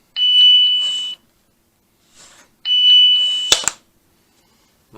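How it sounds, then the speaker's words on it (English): A back door chime on an X Sense home security kit plays a high electronic tone twice, each about a second long, with a sharp click or knock after the second and quiet gaps between. "The chime set for the back door to sound like this."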